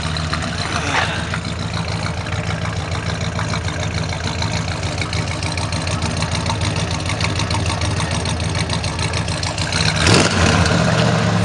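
A 1974 Dodge Monaco V8 idles steadily through new Flowmaster mufflers, a loud, continuous low rumble with a slight swell near the end, with no talk over it.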